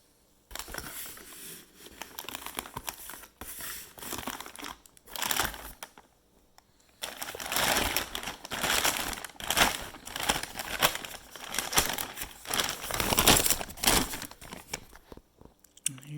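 A plastic bag crinkles and rustles in bursts as it is opened while turbo parts are unboxed, close and fairly loud, with short pauses between handling noises and no voices.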